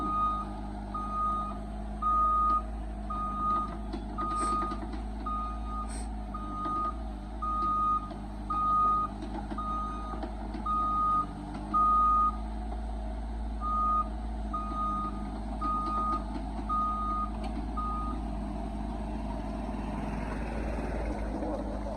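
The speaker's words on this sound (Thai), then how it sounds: "เสียงออกถอยนี่เป็นเอกลักษณ์ของแคทนะครับ" Steady, regular reversing beeps from a small Caterpillar excavator repeat over a constant diesel engine rumble, continuing for a long stretch before stopping.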